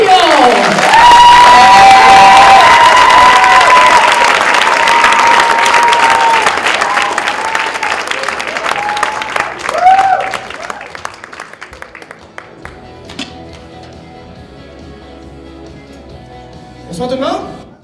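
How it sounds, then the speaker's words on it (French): A comedy show audience in Baie-Saint-Paul applauds and cheers loudly for a stand-up comedian's entrance, dense clapping with whoops, fading after about twelve seconds as a voice begins speaking over the thinning claps. "J'aimerais ça que vous applaudissiez chaleureusement votre humoriste pour ce soir"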